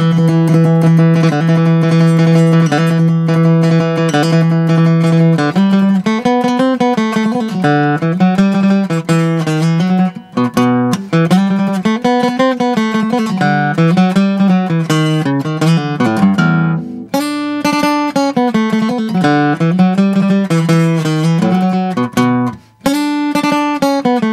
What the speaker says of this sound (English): So we're going to do Greensleeves done in sort of the flat picking or even fiddle tune style.